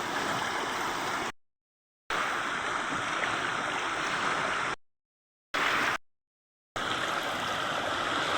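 A strong river current rushes in a continuous broadband roar, loud and close, broken by a few abrupt silent gaps.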